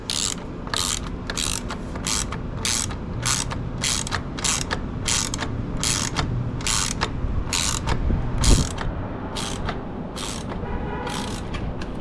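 Rapid ratchet wrench clicking while bolts on a MIVV decat exhaust pipe are tightened on a Ducati Monster 937 motorcycle, steady bursts of close mechanical ratcheting repeating throughout without pause.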